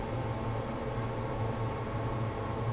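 Diesel locomotive rumble from a California Zephyr FP7/F9 in Train Simulator Classic with enhanced sound: a steady, loud engine drone with a low hum and broadband noise, continuous and unbroken, with no talk.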